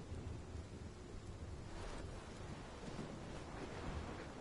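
Thunderstorm in the game Life is Strange: a steady roar of wind and pouring rain with low rumbling thunder swelling underneath, dense and continuous throughout with no voices.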